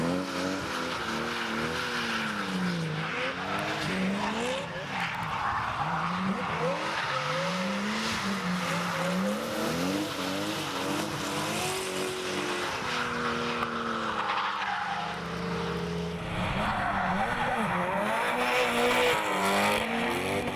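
Drift cars at a French drift championship round at Lédenon, engines revving and wailing up and down as tires squeal continuously, loud and sustained without commentary.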